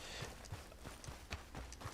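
Horse hooves clip-clop at a steady trotting rhythm in the video game Red Dead Redemption 2, a quiet run of evenly spaced dull thuds over a faint hiss of background ambience.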